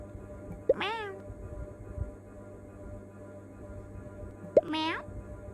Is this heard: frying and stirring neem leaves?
no